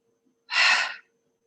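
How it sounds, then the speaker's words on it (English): A single breath drawn through the nose and released as one sharp, breathy exhale lasting about half a second, close and clear against silence during a fire-themed twisting yoga practice. "just inhaling through the nose and letting it go with a sharp exhale"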